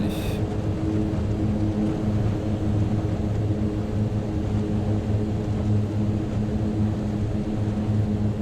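A Mitsubishi MU-2 turboprop aircraft on its takeoff run, heard from inside as a loud, continuous propeller and engine drone with steady tonal hum and a brief high whine at the start.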